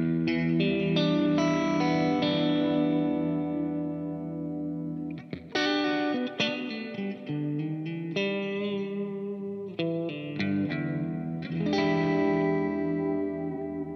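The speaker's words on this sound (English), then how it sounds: "I'm gonna test one more thing, and that is the new dynamic hall" Electric guitar through a Line 6 POD GO with the dynamic hall reverb plays picked chords and single notes, each ringing out in a spacious lingering wash, alone without talk.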